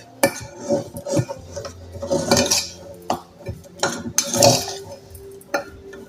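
Canary egg-food pâtée of egg and buttery shortbread biscuits being stirred in a bowl: a near, irregular series of clinks and scrapes of a utensil against the dish, with soft mushy stirring between the knocks and no talking.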